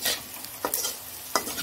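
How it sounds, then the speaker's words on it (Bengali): Cumin seeds sizzle in hot oil, a steady close frying hiss broken by several sharp stirring scrapes of a utensil against the pan, with no voices over it. "তেলটা গরম হয়ে গেছে, জিরে দিয়ে দিলাম"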